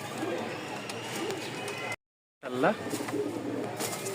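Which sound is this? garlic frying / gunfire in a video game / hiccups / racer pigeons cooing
racer pigeons cooing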